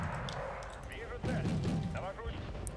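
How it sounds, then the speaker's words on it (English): Mortar artillery fire in the real-time strategy game Wargame: Red Dragon, with dull thumping impacts and crackling bursts in a busy battle mix, moderately quiet and partly under a voice. "Mortars."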